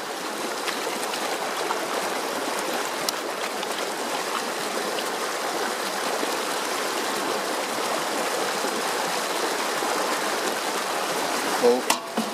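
Water rushes steadily through a gold sluice outdoors, a continuous close hiss and gurgle with no pause, and a brief clatter near the end.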